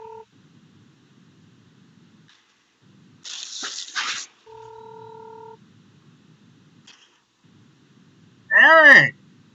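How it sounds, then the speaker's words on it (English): Telephone call tones: a couple of short dial tones, a brief crackle of noise, then a longer steady two-note tone, ending with a loud warbling burst near the end, with quiet hiss between. "So we'll try giving him a call then."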